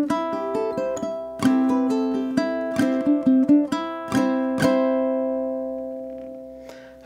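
Solo ukulele playing the first phrase of a waltz, a plucked melody over strummed chords in waltz time, close and clear, with the final notes ringing out and fading.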